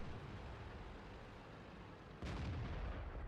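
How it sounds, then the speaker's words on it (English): A single heavy cannon shot from a Comet tank in a tank video game booms out about two-thirds of the way through, rising sharply above a steady low engine rumble. "I nail that ELC on the move with the fantastic gun this Comet has"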